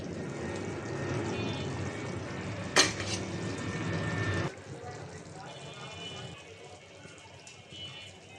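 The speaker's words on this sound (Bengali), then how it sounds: "মাছটা কষানো হয়েছে, আমি এটা এখন তুলে নিব বাটিতে।" Spiced puti fish cooked with radish being scooped from a pan into a bowl: a steady sizzle with one sharp utensil clink, then the frying fades to a quieter hiss.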